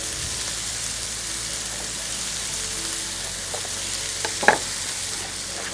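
Green pepper stir-frying in a pan for Somali rice gives a steady close sizzle, with a few scraping stirs and a sharper clink near the end, no voices.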